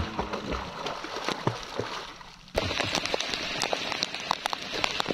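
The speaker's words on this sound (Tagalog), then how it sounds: "lakas ng ulan" Heavy rain pouring down outdoors near the sea, a dense steady hiss that grows louder partway through, with scattered drop impacts.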